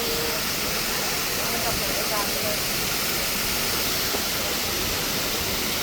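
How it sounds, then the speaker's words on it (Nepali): Water rushes along a hillside stream in a dense, steady roar that fills the whole stretch without a break, heard close and loud. "ल पानी दामी तरिकाले बगिरहेछ"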